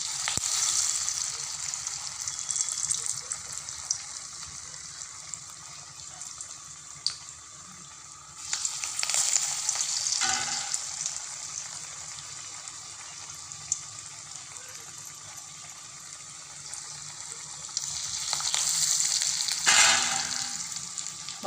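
Vadas deep-frying in hot oil in a home kitchen, a steady crackling sizzle that runs throughout with a few louder bubbling bursts, close and fairly quiet, with no talking.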